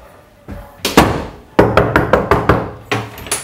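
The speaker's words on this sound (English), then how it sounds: "I'm going to knock on the door too" Someone knocks on a hallway door, first with a few scattered raps, then a quick run of six firm knocks, then two more. The knocks are close and loud.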